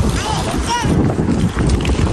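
Cold wind gusting across a microphone on a Paris street, a steady, close, rumbling roar that fills the whole moment without letting up.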